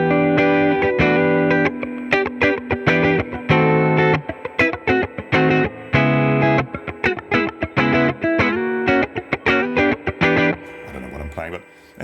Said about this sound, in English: it sounds a bit of spring reverb there